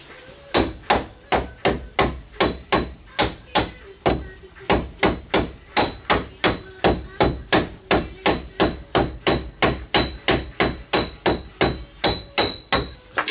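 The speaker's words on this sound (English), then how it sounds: "Get your rubber hammer." A rubber hammer taps a wheel bearing onto the hub of a 2007 Dodge Caravan in a steady run of about forty close, even blows, pausing briefly once before resuming the regular rhythm.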